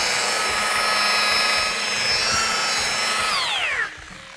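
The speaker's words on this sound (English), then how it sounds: "Let the buffer do the work." A polishing buffer whirs steadily on car paint, a loud sustained motor whine with a stable tone that winds down in pitch just before the end.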